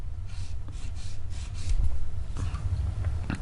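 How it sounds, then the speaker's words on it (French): Gel nails being shaped with a nail file, producing soft, repeated rasping strokes in a steady rhythm, close and fairly quiet against a low background hum. "je vais limer au niveau des parallèles"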